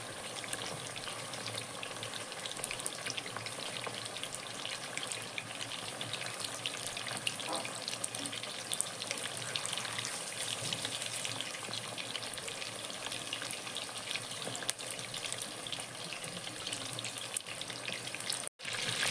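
Pieces of chicken frying in hot oil over a medium flame, Kerala-style fried chicken, give a steady, dense sizzle and crackle throughout, even and close, with no talking.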